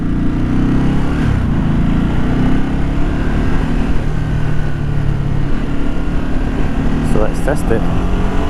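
A 13-year-old Ducati V-twin motorcycle engine runs steadily at close range, with a low rumbling drone throughout and someone talking over it.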